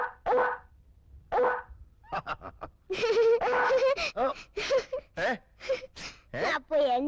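A man imitates a dog barking with his voice, a close series of short, sharp woofs and yelps: a few spaced barks first, then a rapid burst of barks in quick succession.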